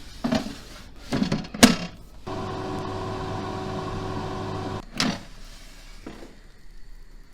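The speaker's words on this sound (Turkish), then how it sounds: "Patlıcanlarımı airfryer'de közleyeceğim." An air fryer roasting eggplants at 200 degrees clicks and clatters, then runs with a steady electric fan hum for a few seconds before another click and a few knocks.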